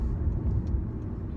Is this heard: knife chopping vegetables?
no